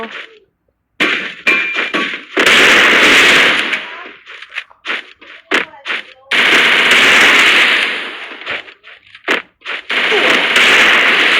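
Rapid automatic gunfire rattles in a shooter video game, coming in several long loud bursts separated by short gaps and single shots, with a voice talking between the volleys.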